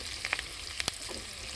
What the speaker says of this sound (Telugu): పప్పు సర్వలో వేస్తే ఒక సౌండ్ వస్తుంది చూసారా